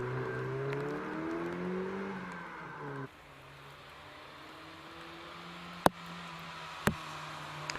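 A Mazda MX-5 sports car competes at the Prescott hillclimb in the rain, its engine revving through rising gear pulls for the first few seconds, then dropping to a softer steady drone, with two sharp cracks later.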